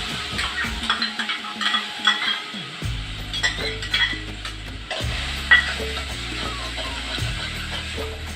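Blended jackfruit pulp being sautéed in leftover ghee, a soft sizzle under busy spoon scraping and clinking against the pan, with a low hum starting and stopping in the background.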